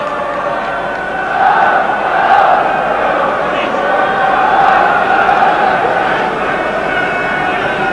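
Stadium crowd at a 1994 Premier League football match between Sheffield Wednesday and Tottenham Hotspur, a steady broad roar of spectators swelling slightly and then settling, heard from a distance.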